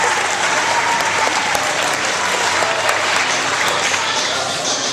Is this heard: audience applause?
yes